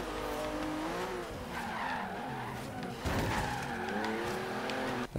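A Porsche in Forza Horizon 3 revs hard with a rising engine whine and screeching tyres as it accelerates and slides, loud and continuous, with a sharper burst of skid noise partway through.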